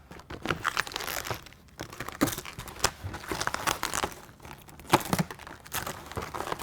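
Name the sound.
cutting out a window deflector sticker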